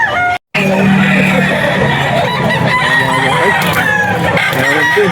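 A chicken at a pet market crows loudly and close by, then keeps clucking and calling in a busy, rough stream over faint background market noise.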